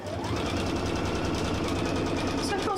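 A sewing machine runs steadily along a seam while stitching a packaway cushion, a fast even mechanical whir and rattle heard up close and continuing throughout.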